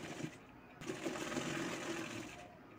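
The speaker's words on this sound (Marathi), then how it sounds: "दुसऱ्या साईडलाही असंच शिवून घ्यायचं आहे।" A sewing machine runs close by, stitching a doubled strip of fabric piping for a baby girl's summer frock in a steady whirring burst of about two seconds, with a faint voice in the background.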